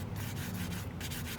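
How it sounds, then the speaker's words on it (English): Steady, continuous scratchy rubbing of sandpaper worked by hand over a cured resin surface, close up, with a faint rhythmic back-and-forth swell. "It doesn't hurt me to spend 5 minutes sanding this, getting rid of the sheen"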